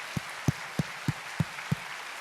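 Sparse, rhythmic claps ring out in a church congregation during a sermon, about six evenly spaced sharp hand claps over a faint room hum, each clap distinct and fairly soft.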